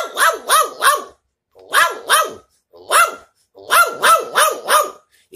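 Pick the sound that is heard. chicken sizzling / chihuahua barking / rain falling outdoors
chihuahua barking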